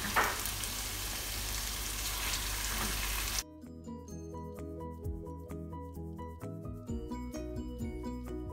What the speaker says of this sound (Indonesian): Bumbunya ditumis sampai benar-benar matang